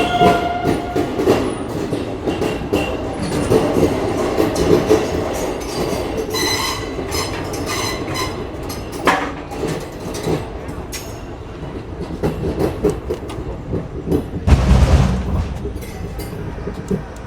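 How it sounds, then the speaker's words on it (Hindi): The Chennai Express pulls out of Charlapalli station in Hyderabad with a rumbling roll, clattering wheels over rail joints and brief high squeals, loud and close, with faint voices nearby. "एकदम परफेक्ट टाइमिंग के साथ अभी अपनी चेन्नई एक्सप्रेस निकल रही है हैदराबाद से"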